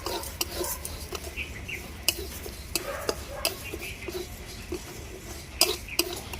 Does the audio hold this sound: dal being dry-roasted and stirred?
yes